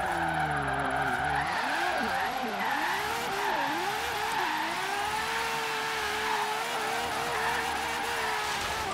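A Ferrari 599XX in Forza Horizon 3 drifts with loud, continuous tire squeal, its engine revving up and down in wavering, sliding tones through the whole stretch.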